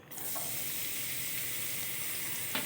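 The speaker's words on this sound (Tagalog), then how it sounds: "At kung medyo mainit na yung mantika, ilagay natin yung bawang." Garlic sizzles steadily in hot cooking oil in a clay pot, a soft, even crackle with a couple of faint stirring scrapes.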